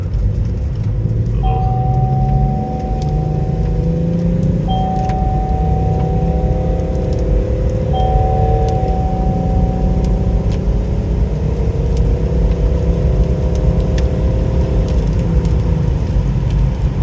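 A 2010 BMW X5 35d E70 diesel SUV pulls away steadily, its engine droning loud and close with rising gear-by-gear pitch sweeps and a constant low rumble, no voices over it.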